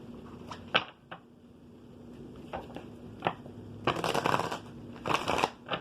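Soft papery shuffling of tarot cards, scattered riffles and taps building to two denser bursts, close and quiet with no talking.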